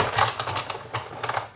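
A hand-cranked embossing machine pressing a sheet of paper between plates gives a run of close mechanical clicks and ratcheting ticks, steady and moderately loud, with no voices.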